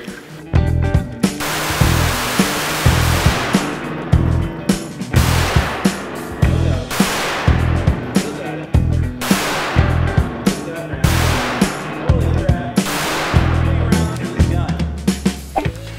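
A Taurus TX22 .22 pistol fires CCI Mini-Mag rounds in a rapid string of sharp, loud cracks with a fairly regular rhythm. Each shot rings and echoes briefly, and there are small gaps between groups of shots.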